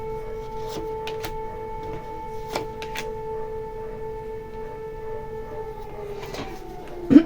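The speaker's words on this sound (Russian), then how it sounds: "Так, девочки, у меня сирена" An outdoor siren wails with a steady, sustained tone that holds at an even level, a few faint clicks and knocks over it and a short louder bump at the end.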